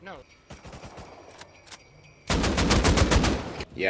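An AK rifle fires in the video game Rust: a loud, rapid automatic burst of closely spaced shots rings out after quieter scattered sounds and brief speech.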